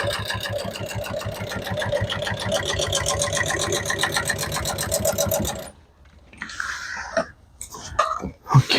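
An upholstery sewing machine runs a fast, steady train of stitches for about five seconds, loud and near. It stops abruptly, followed by quiet handling noises and light clicks.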